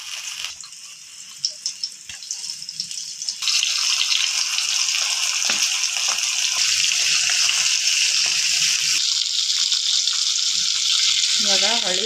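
Rava-coated fish goes onto a hot tawa: a few soft clinks and handling noises, then a sudden, loud, steady sizzle of frying that continues to the end, with a brief voice near the finish.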